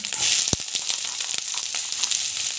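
Paneer biryani ingredients frying in plenty of hot oil, a continuous bright sizzle with one sharp knock of a utensil near the start and soft stirring underneath.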